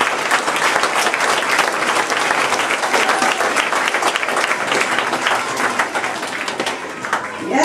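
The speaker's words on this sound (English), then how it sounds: "How about another round of applause for everybody?" Sustained applause from an indoor audience at a Christmas gathering, steady dense clapping filling the whole stretch without a break, fairly loud and close.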